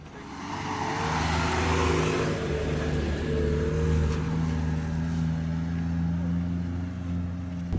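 A bus engine labours up a steep hill, a loud, steady low drone with a rising strained roar, heard close from inside the vehicle and continuing without a break.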